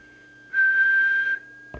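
A steady whistled tone into the microphone of a Murphy DS602 UK CB 27/81 mobile radio during transmit alignment, lasting under a second over a faint constant oscillator tone, followed by a brief click.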